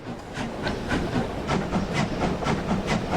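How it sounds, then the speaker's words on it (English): Steam locomotive on the Brockenbahn line in a train simulator, giving a strange clank as the throttle first opens: a steady hiss of steam with a regular pattern of mechanical chuffs and clanks, fairly loud and close, with no talking. "It's a strange clank it gives when you first open the throttle."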